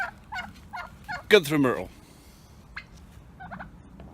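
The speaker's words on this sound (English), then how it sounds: "Turkey." Turkeys on a farm gobble in short rattling bursts, one loud close gobble standing out amid softer calls, while someone speaks briefly over them.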